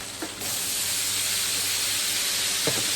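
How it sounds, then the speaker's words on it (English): A steady, loud sizzling hiss of vegetables frying on a hot grill, continuous throughout with a couple of faint clinks. "Can you hear that sizzle?"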